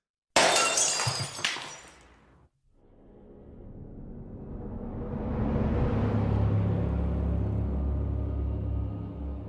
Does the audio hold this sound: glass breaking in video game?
yes